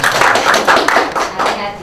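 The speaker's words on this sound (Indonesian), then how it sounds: "Ya, tepuk tangan dulu lah." Audience at an Indonesian stand-up comedy show claps in a lively burst of applause for nearly two seconds, fairly loud and close, with uneven swells of hand claps.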